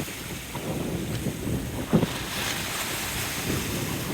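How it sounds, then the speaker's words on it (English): Ocean waves washing against rocky shore, a continuous rushing surf under heavy wind buffeting the microphone, with a few louder splashes. "I'm gonna get up to where the waves crash."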